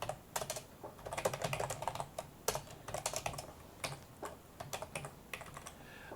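Someone types in quick, uneven bursts on a computer keyboard while writing C++ code, crisp close key clicks with short pauses between runs.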